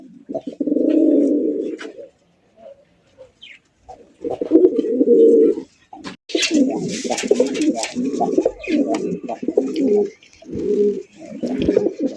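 Deep, throaty satin pigeon cooing comes in long rolling bursts, first one stretch, then a pause, then repeated coos in a steady run, close by.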